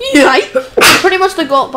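A single sharp sneeze bursts out loud and close in the middle of casual chatter during a co-op session of the survival game Raft, with people talking before and after it.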